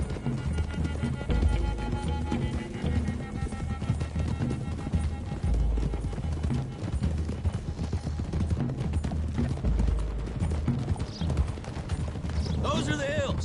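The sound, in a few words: horses galloping in the video game Red Dead Redemption 2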